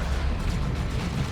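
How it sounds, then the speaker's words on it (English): Dense, rumbling explosions and battle booms from the Dawn of War 2 video game as Chaos Space Marines fight Orks, a continuous loud barrage without speech. "Global ability of the Plague Champion causes dying units to explode with an AoE damage explosion and an AoE heal"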